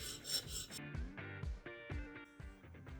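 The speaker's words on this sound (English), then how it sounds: "lay it flat on your sharpening stone and go back and forth" A woodworking chisel laid flat and pushed back and forth across a sharpening stone on a workbench corner, giving steady rasping strokes roughly every half second, close and fairly loud with no talk.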